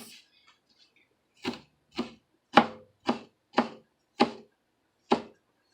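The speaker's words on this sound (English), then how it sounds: "we're just gonna go ahead and finish chopping up this spinach here" A knife chops spinach into small pieces on a cutting board for breakfast muffins, landing seven crisp, close strikes at an uneven, unhurried pace with silence between them.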